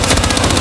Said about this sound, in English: I'll fucking shoot you all back